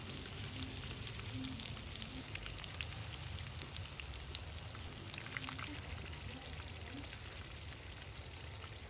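Chilli peppers frying in a pan for cheese chilli tikka bites, giving off a soft, steady sizzle and crackle throughout, close and fairly quiet with no talking.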